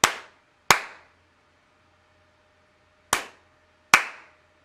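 Four sharp hand claps triggering a clap switch, two in quick succession, a gap of a couple of seconds, then two more, each ringing briefly in a quiet room.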